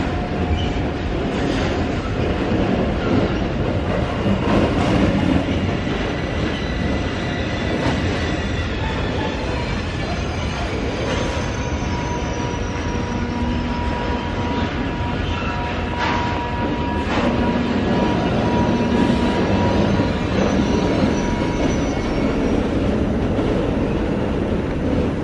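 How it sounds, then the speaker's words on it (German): An ICE 3 high-speed train pulls into a station on an autumn day, a loud sustained rolling rumble with rail clatter and faint wheel squeal, heard up close with no voices. "da fährt der ICE 3 ein"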